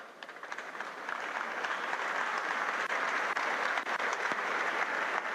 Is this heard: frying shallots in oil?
no